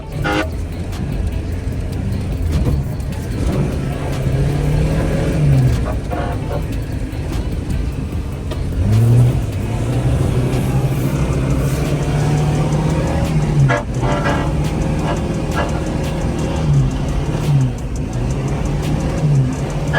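A Lada Zhiguli car drifting in winter, its engine revving up and down repeatedly, loud and close, with bursts of higher revs and some background noise.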